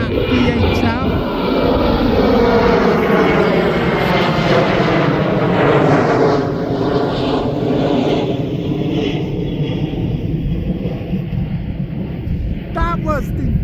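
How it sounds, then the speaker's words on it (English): Loud, sustained roar of a Ryanair jet airliner taking off at East Midlands Airport, close and powerful with a shifting engine whine and wind buffeting on the microphone, with someone talking over it. "We have got that Ryanair it's just taken off."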